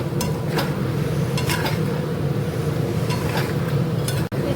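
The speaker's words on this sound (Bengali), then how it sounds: "রসুন আর পেঁয়াজ কুচিটা দিয়ে নাড়ব" A spoon stirring ginger, garlic and chopped onion in a pan during a chicken dish, soft scraping strokes repeating every half second or so over a low steady sizzle, with one sharp clink near the end.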